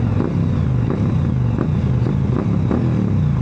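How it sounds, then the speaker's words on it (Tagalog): A Kawasaki Ninja 500 with a parallel-twin engine and a slip-on exhaust runs steadily, giving a loud, continuous low rumble with a fast pulsing throb and no pauses, heard alone. "Yung naririnig nyo po ngayong exhaust na itong bike ay B2 engine."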